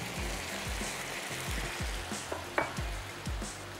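Onions drop into sizzling beef bulgogi in a pan, giving a continuous close hiss with low rhythmic scraping and clatter from stirring, and a sharper knock midway, no voices.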